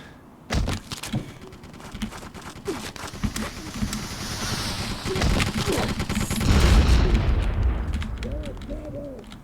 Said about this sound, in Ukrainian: там з ракетницею можуть стріляти